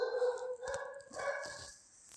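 A puppy barks and yips in short, close, fairly loud bursts around a home, with a tonal, whiny edge to its cries.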